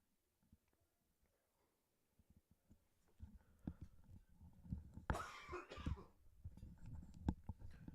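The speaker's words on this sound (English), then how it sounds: "still coughing over here." Someone coughs a few times nearby, starting quietly and building into a harsh, raspy burst of coughing, with breathing in between.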